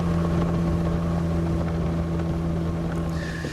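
A motorboat's engine drones on steadily with wind buffeting the microphone as the boat heads out toward an island in Cameroon.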